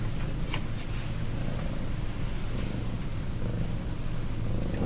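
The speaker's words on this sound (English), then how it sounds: "You like the sound of a cat purring?" A house cat purring close to the microphone, a loud, continuous low rumbling drone with a steady pulsing rhythm, alone without talk.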